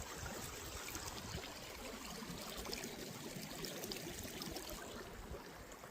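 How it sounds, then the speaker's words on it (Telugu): Himalayan stream water flowing steadily at a border post, a continuous broad rushing wash close by with no voices over it. "మన తాగే నీళ్ళు ఇవి."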